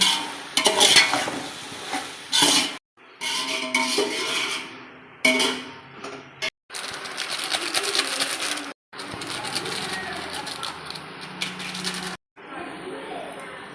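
Mushrooms with onion, green chilli and tomato frying in a pan, heard as bursts of sizzling and stirring scrapes cut by short silences, with someone talking in between.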